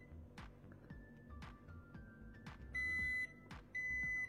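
A Zojirushi micom rice cooker sounds its electronic tones, short steady beeps twice in quick succession after faint earlier chirps, close and fairly quiet against a soft room hum.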